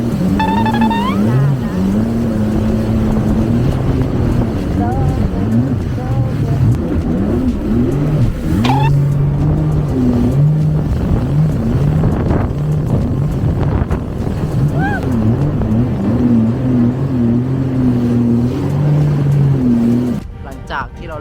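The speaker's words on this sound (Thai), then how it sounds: "เราจะไปขับเจ็ตสกีกัน" A jet ski engine runs on the open sea near Phi Phi Island, Thailand, a loud steady drone whose pitch rises and falls with throttle changes under heavy wind buffeting, then cuts off abruptly at the end.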